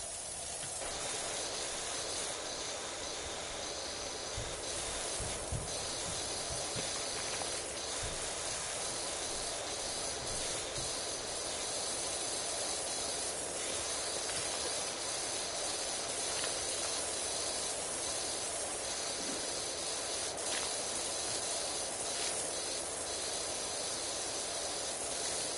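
A power washer in the video game PowerWash Simulator sprays continuously, a steady loud hiss of water jets that lasts throughout without pause, with no voices.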